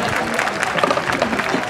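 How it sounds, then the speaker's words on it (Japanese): At a Chiba prefecture junior high school track meet, spectators applaud the runners after the boys' 3000 m final, a brief, dense burst of clapping with crowd murmur mixed in. "このコンディションの中精一杯走り切った選手に大きな拍手をお願いいたします"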